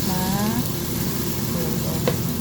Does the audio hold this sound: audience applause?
no